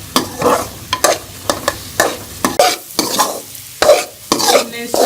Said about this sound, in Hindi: आपने सूजी को जो है वो बिल्कुल ही स्लो आंच पे भूनना है